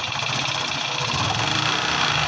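A motorcycle engine runs with a rapid, rattling knock, a steady mechanical clatter close by.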